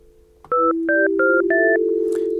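A sustained Yamaha FB-01 FM synth tone plays while a quick series of four paired electronic beeps sounds over it, clean and close, with no voices.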